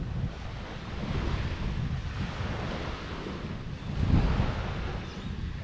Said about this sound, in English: We've got the waves breaking, even though they're not real big, they're real loud.